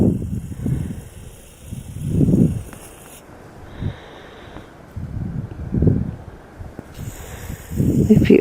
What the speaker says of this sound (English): Oh, such wind.